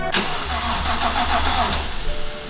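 A BMW 335i with the N54 engine cranks loudly and close up on a start attempt, its starter churning in a continuous rhythmic whir that lasts throughout.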